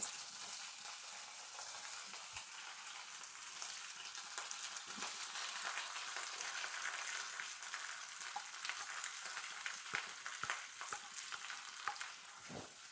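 Onions fry in hot oil with a steady soft sizzle and occasional stirring scrapes, close but fairly quiet, with no voices.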